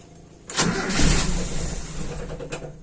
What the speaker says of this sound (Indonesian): Kali ini saya akan tes start pagi hari start dingin dari karburator Aisan ini.